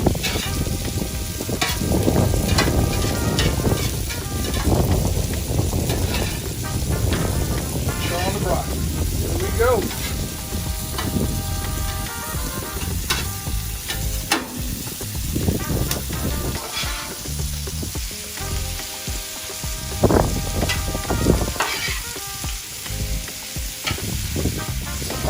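Ribeye steak and potatoes sizzle loudly on a Blackstone griddle cooktop, a dense, steady frying hiss up close, broken by occasional scraping and stirring clatter from a utensil.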